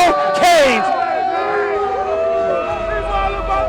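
Fans fire up the arena before a Carolina Hurricanes game against Notre Dame, a sustained crowd roar with whoops and shouts throughout, loud and close, with voices rising over the din.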